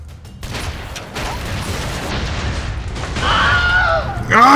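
A Broforce explosion rumbles with deep booms and crackling debris, swelling louder toward the end as higher whining game effects cut in over the blast noise.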